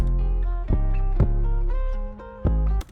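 A dense, heavily compressed drum beat with punchy kick and snare hits over sustained tones, loud and flat in level with little dynamic swing.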